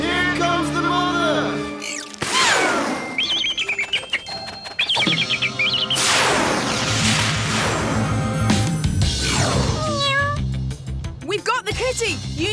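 A cartoon kitty in a Paw Patrol episode meows repeatedly in high, bending cries, mixed with chirpy bird-like calls, bright cartoon music and character voices talking.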